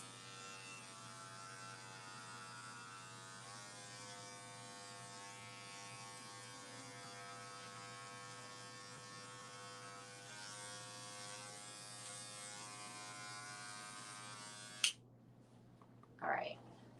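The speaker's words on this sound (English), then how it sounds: "It's completely okay to move your clipper in different directions to be able to cut those hairs." An electric hair clipper buzzes steadily and close while cutting hair, its pitch shifting slightly as it moves in different directions, before it switches off with a click and a brief rustle.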